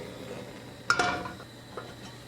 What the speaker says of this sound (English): Get a pot.